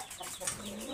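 A hill-breed rooster on a farm gives a short, soft cluck amid a steady background hiss, alone without any voices.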